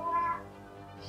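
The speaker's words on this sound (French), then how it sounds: "Parce que c'est un chat." A cat gives a short, fairly close meow lasting under half a second, followed by quiet room tone with no talking.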